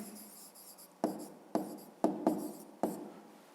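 Pen writing on paper while working a fifth-grade math exercise, heard as a series of distinct scratchy strokes close to the microphone, about five separate bursts over a few seconds with no voices.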